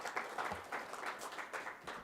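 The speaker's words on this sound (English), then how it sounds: "A round of applause." Applause at a health summit regional meeting, faint and distant, with short pulsing bursts of clapping over a couple of seconds.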